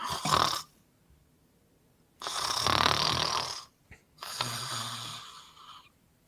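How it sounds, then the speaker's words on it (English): Snoring rasps in three long, rough breaths separated by quiet pauses, close and fairly loud, with no talking. "you guys hear like a clank, and the snoring goes"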